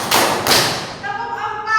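A classroom of students claps together on cue, making a couple of sharp, broadband smacks close by, then a voice talks over the quieter room.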